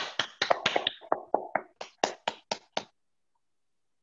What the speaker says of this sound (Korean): 네, 뜨거운 박수로 모셔보도록 하겠습니다.